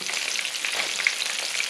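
Breaded fish fries in a pan with a bright, continuous sizzle and scattered small pops, close up and even in level, with no voices.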